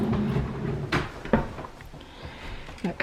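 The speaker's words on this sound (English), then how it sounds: "Got cupboards." A kitchen cupboard door in a newly bought farmhouse opens and shuts with a few short wooden knocks and clicks, fairly close, over a low steady room rumble with no talking.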